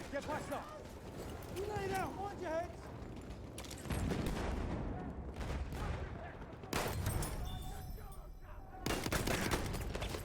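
Battlefield 1 gunfire on the Amiens frontline map, with rapid bursts of automatic shots and sharp single cracks spread through the clip, heard under ongoing talk between players.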